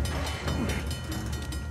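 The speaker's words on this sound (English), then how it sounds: "Train's getting closer." In the video game Uncharted: The Lost Legacy, a train approaches as a steady, dense rumble of wheels and rail noise, fairly loud and continuous with faint rhythmic clatter.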